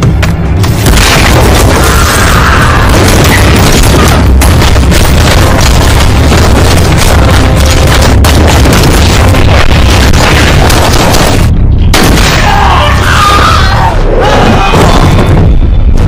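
A film battle scene with gunfire and explosions: a dense, loud roar of heavy booms and thuds rolls on almost nonstop, with a brief gap near the end before more blasts.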